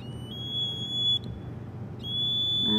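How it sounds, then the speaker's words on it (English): A Play-Doh electronics kit buzzer gives a shrill, steady electronic tone close by. It sounds continuously, cuts out briefly near the middle, then resumes over a low background hum. "They also have a buzzer, which I'm gonna plug in. It's gonna be really annoying."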